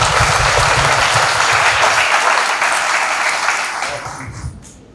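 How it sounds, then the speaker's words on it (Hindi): Loud, dense audience applause after a call for a big round of clapping at a Hindi motivational talk, sustained for several seconds and slowly tapering off toward the end. "एक बार जोरदार तालियां"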